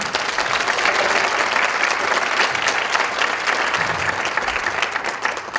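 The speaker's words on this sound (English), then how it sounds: "So please give them a round of applause." Steady, dense applause from a concert audience at a college African drumming performance, loud and continuous throughout with no talking.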